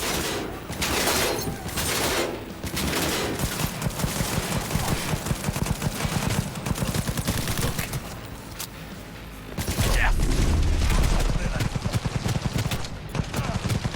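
Cyberpunk 2077 gunfire crackles in dense, near-continuous automatic bursts. A heavy booming blast lands partway through, and the shooting carries on afterward.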